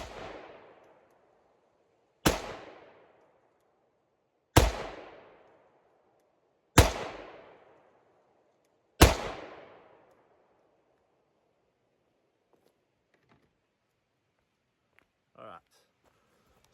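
A S&W M&P 5.7 pistol fires five sharp, loud shots, each about two seconds apart, every crack trailing off in a short ringing echo before a quiet stretch with a few faint handling clicks.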